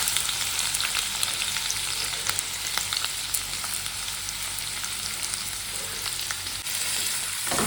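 Onions sizzling and frying in a pan for ghugni, a steady dense crackle of hot oil with occasional stirring scrapes, close and continuous with no talk.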